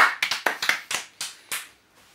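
A few people clap by hand in a small room: about eight sharp, separate claps in an uneven rhythm, close and moderately loud, fading out toward the end with no talking.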